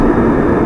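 A car engine revs steadily at about half throttle after being tuned to run smoothly, a continuous close, loud drone that holds even without a break for its whole short span.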